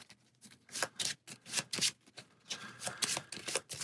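Playing cards being shuffled for the Bardsung board game, a run of crisp, papery riffle bursts in quick succession, close and fairly quiet, with no talk over them.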